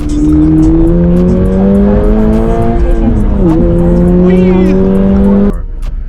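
A car engine screams at high revs, held hard against the rev limiter, loud and close with a steady, strained tone that wavers and dips before cutting off abruptly near the end.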